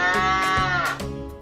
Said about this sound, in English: each cow sound counts as 10